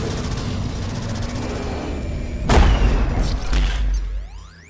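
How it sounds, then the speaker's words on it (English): Explosion in Terraria during a Moon Lord boss fight, a loud sudden boom that cuts through a dense bed of game sound effects and music, followed by a second swell and a descending whoosh. "the first explosion"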